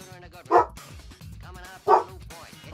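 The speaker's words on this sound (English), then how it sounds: "Dog bark. Dog bark. Bark." Dog barking twice, two sharp separate barks about a second and a half apart, fairly close, over a steady background of talk and low sounds.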